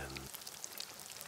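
Kentucky Fried Chicken frying in oil, a dense, even crackle and sizzle that runs steadily through the whole short stretch after a brief low hum at the start.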